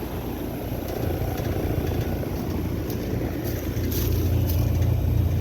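Fan motor on a 2010 two-ton XR15 outdoor air conditioning unit running with a steady, loud low rumble and broadband whoosh, unbroken throughout and swelling slightly toward the end.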